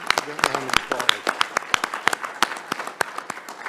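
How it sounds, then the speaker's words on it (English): Audience applause at a university board committee meeting, with distinct individual claps ringing out sharply over a scattered, moderately sized crowd; a voice speaks briefly near the start. "Please give all these folks a round of applause."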